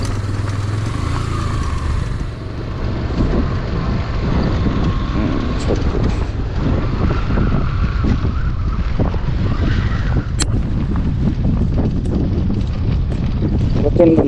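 Strong gusty wind buffets the microphone on a rough mountain road in Upper Mustang, Nepal, during a motorcycle tour, a loud continuous roar with rumbling low bursts throughout.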